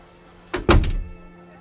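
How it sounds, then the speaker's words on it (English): A door shuts with a short scrape followed by a solid thunk, close and loud against a quiet room. "And the woman closed the door."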